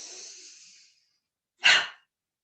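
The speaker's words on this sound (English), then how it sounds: "Nice deep breath in." A slow, deep breath drawn in and let out through the mouth during a seated calming exercise: a long soft airy inhale fading out, a pause of silence, then a short, stronger breathy exhale, close and alone.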